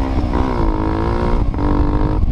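Tuned Honda Falcon motorcycle engine, geared short for torque, holding a loud steady rev close up, with a brief dip in pitch before the tone picks back up.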